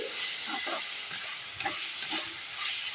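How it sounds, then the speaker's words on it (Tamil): Onions cooking with salt in a hot pan give a steady, close sizzle of frying, with light stirring scrapes now and then and no voices. "உப்பு போட்டோம்னா வெங்காயம் வந்து சீக்கிரம் வதங்கும்"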